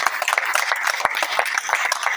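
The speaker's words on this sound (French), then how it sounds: "les applaudissements." Applause from the audience at a press conference launching a new music album, a short stretch of brisk, dense clapping from a small crowd, fairly close and steady throughout.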